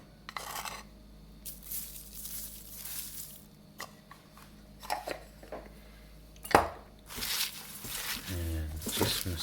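Hands rub and squeeze chopped kale sprinkled with salt in a bowl, producing soft, close, intermittent scrunching and rustling bursts with brief quiet gaps between them.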